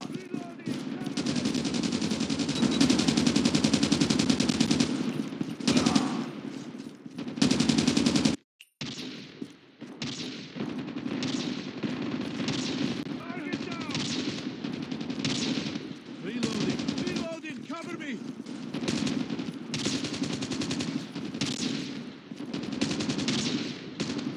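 Dense rapid automatic gunfire in Call of Duty Mobile runs almost continuously in long bursts with a short break, loud and close, with some game sound layered in.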